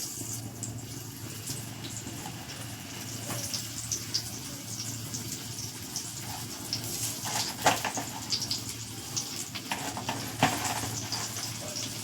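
Pointed gourd (potol) fries in a hot wok, giving a steady close sizzle with scattered scraping and stirring clicks, and no talk over it.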